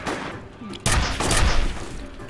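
Gunfire from the F.E.A.R. shooter video game breaks out abruptly as a dense, loud burst of rapid shots lasting under two seconds.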